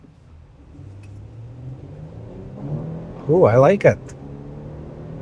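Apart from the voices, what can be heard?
2025 Nissan Armada accelerating from a stop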